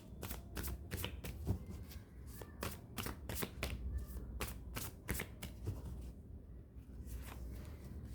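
Oracle cards are shuffled by hand close up, a quick run of crisp riffling snaps and flutters in uneven bursts, with quiet pauses between them and no talking.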